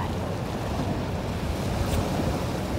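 Wind blowing at a beach, a steady broadband rush mixed with surf, continuous and fairly loud with no talking.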